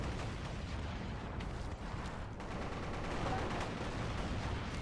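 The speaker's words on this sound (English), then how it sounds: "it's mainly soundtracked by explosions. And the same explosion over and over again." Repeated explosions from a video game roar as a dense, continuous barrage of booms and rumbling blasts, loud and unbroken throughout with no pause between them.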